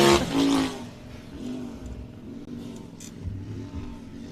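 An off-road race car engine roars as the car launches at a Mickey Thompson race at MidAmerica Outdoors. A loud burst at the start fades into a lower, rumbling drone.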